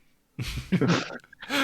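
A single sneeze close by, a sharp burst of breath and voice followed by a brief vocal sound.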